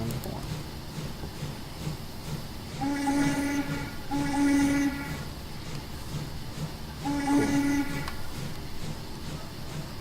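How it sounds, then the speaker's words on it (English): A steam locomotive whistle in the game Immersive Railroading sounds three times in steady blasts, the first two close together, over a constant hissing rumble of machinery. "Sound horn."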